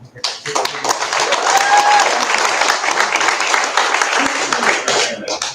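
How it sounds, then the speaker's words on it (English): A room full of people claps for everyone at a live gathering, the applause rising quickly, staying loud and dense, then tapering at the end, with a whistle and some voices mixed in. "I want to give a round of applause to everyone"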